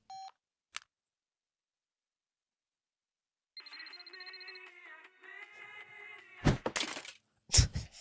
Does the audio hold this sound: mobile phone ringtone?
yes